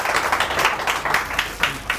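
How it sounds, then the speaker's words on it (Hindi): Brief, scattered clapping from an audience at a presentation session, a few uneven bursts of moderate loudness with no talking. "तालियां बजा दीजिए थोड़ा"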